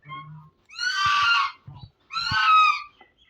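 Two loud, close honks from domestic geese on a farm where goose eggs are hatching, each a harsh, nasal call lasting about half a second, separated by a brief quiet gap with faint low grunting.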